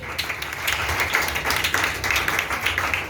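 A church congregation at a wedding sermon claps to acclaim the Lord, full, steady applause with rhythmic clapping bursts, fairly close, lasting a few seconds with some voices mixed in.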